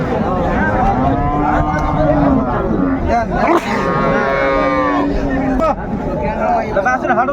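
Cows and calves low loudly at a busy Raniganj cattle market, long drawn moos rising and falling close by while people talk and chatter throughout.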